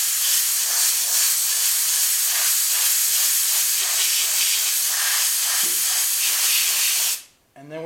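An airbrush sprays green paint through a scale stencil in one long, continuous, close hiss that cuts off near the end, leaving a brief quieter tail.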